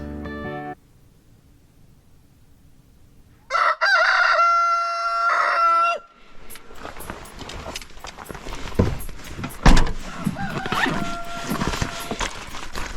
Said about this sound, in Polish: Wita nas już tutaj jakiś kogut.